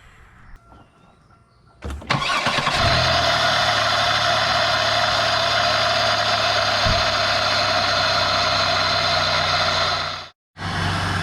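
A GM 3800 V6 car engine, after head gasket replacement, cranks and catches after a couple of seconds, then idles steadily with a loud, even hum before cutting out briefly near the end.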